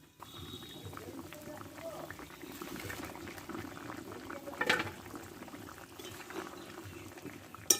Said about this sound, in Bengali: দেখো জলটা ফুটে উঠেছে আলুটা সিদ্ধ হয়ে এসছে